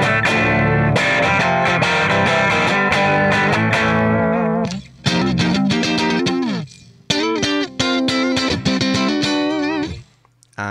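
A bass played through a phaser preset on the Overloud TH3 amp simulator with no delay or reverb, loud sustained distorted notes giving way to choppy phrases with brief gaps, no talking.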